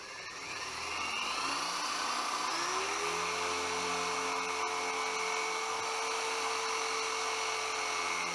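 A power drill whines steadily against a Honda Bros (Hawk GT) motorcycle part, its pitch dropping and settling into a constant close, sustained drone with a faint grinding edge.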